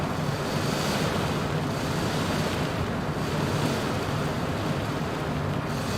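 Steady, roaring wind rushes continuously with a constant low rumble, loud and unbroken throughout, like a heavy gale buffeting from all sides: 60 to 65 knot winds of Cyclone Freddy in Microsoft Flight Simulator.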